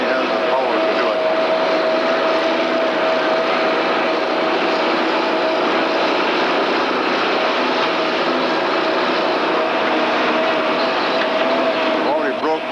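A Timbco T430 feller buncher climbs a steep slope, its engine a loud, steady, unbroken drone with a constant tonal whine throughout, and someone talks over it.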